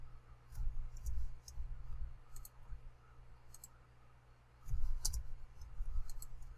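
A computer mouse clicks during modeling work in Maya, giving several faint, crisp clicks scattered over a low rumbling background, with no speech.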